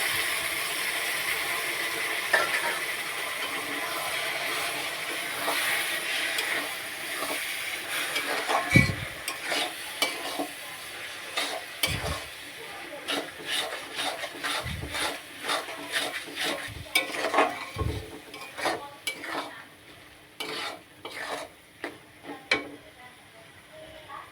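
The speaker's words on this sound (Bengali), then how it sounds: "এরপর একটু জল দিয়ে কষিয়ে নিতে হবে এটা" Mutton being stir-fried with a splash of water in a pan, a continuous sizzle with repeated spatula scrapes and knocks that grow busier toward the end.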